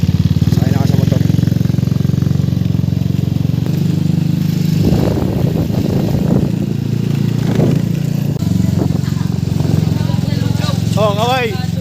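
Steady, loud motorcycle engine rumble runs throughout at close range during a long ride toward Bataan. Brief noises and voices sit over the continuous drone.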